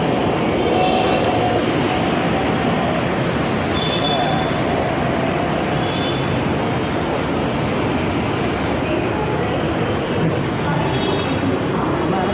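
Steady, loud rumble of a metro train running, a continuous roar with rail hum and no pauses.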